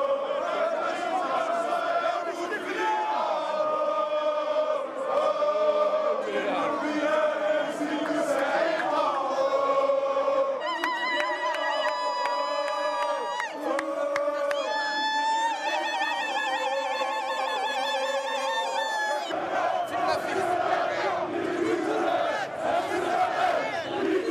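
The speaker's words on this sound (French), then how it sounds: "la foule entonnera en chœur des chants contestataires" A large protest crowd in Algeria chants protest songs in chorus, many voices singing together loudly and continuously, with a denser swell of voices near the end.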